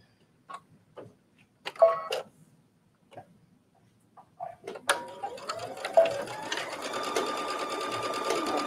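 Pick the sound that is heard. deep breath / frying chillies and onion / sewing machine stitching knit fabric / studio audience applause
sewing machine stitching knit fabric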